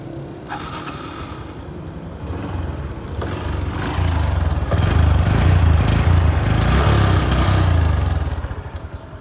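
A Honda Wave 110i motorcycle engine idles with a steady low throb. It grows a little louder partway through, holds, then eases off toward the end. No voices are heard.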